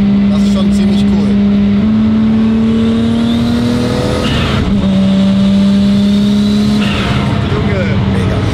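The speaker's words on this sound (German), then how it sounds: "Es gibt so viele verschiedene Turbo-Sounds." A loud turbocharged Toyota Supra MK4 engine revs and holds steady high pitches, dropping and rising again between gear changes, with a continuous roar throughout.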